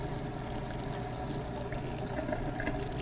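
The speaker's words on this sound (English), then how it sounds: "Let's put it under the hot water." Hot water running from a tap onto a washcloth, a steady pouring splash that holds at an even level with no talk over it.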